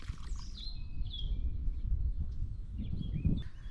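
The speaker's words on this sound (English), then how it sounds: "Lovely large mature trees, and all of the birds singing." Several birds sing in mature mountain woodland on a Serra da Estrela farm in central Portugal, with bright chirps and whistled phrases scattered at moderate distance over a steady low outdoor rumble.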